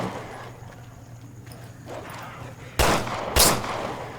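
Two loud, sharp gunshots ring out close together in the video game Resident Evil Revelations 2, over a quiet low in-game hum.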